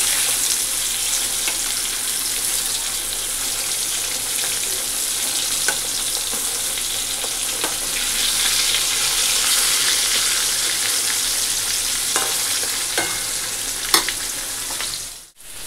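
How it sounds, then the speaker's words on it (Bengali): Fish frying in hot oil in a home kitchen, a dense steady sizzle that is loud and close throughout, broken by occasional light clicks and scrapes of stirring, with no talk. "মাছ ভাজা হয়ে গেছে এই যে।"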